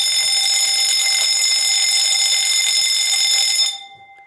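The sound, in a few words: fire alarm bell ringing after being wired as a 2-wire device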